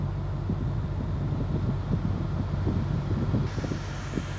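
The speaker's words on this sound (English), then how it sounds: "you can actually hear how loud this blower is" The air conditioning blower fan in a 2020 Ford Mustang Shelby GT500 roars steadily at high speed inside the cabin, a constant loud rushing whoosh with a low rumble beneath it.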